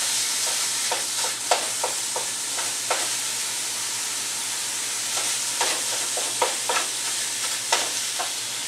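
Ground meat browning in a frying pan, a steady low sizzle with intermittent scraping and tapping strokes of a spatula stirring and breaking it up, close and alone without talk.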